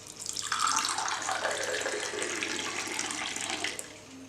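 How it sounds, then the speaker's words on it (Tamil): Warm water poured into a pepper powder drink, a steady close-up splash and trickle of liquid filling a cup that runs for several seconds and tapers off near the end. "இப்போ இதில் வார்ம் வாட்டர் ஆட் பண்ணிக்கணும்."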